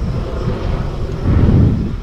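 A police helicopter flies overhead during a large operation near Heraklion, Crete, its broad rumbling drone loud and continuous, swelling slightly toward the end with no voices.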